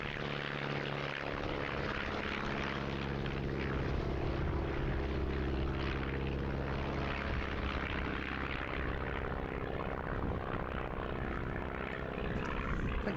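A propeller aircraft flies at the Eastbourne International Airshow 2026, its engine a loud, steady, close droning hum with a throbbing propeller tone that holds for the whole stretch without any talk.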